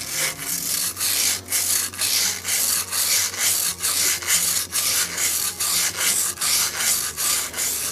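A 1965 Evinrude 3 hp outboard cylinder head is sanded by hand with wet and dry sandpaper, giving a steady rhythmic rasping of back-and-forth strokes, close and fairly loud, with no talking.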